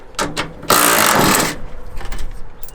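A 9/16 wrench works a transport bolt loose from a MacDon FD2 header, giving close, loud metallic ratcheting clicks followed by a harsh burst of rapid grinding rattle, then lighter clinks.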